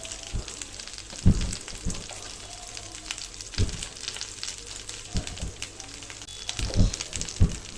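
Chili powder and cut meat fry in oil, a steady crackling sizzle broken by several sharp spoon scrapes and knocks against the pan, close and moderately loud.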